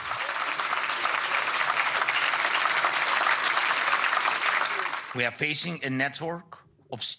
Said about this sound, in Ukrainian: Всі йому аплодували стоячи.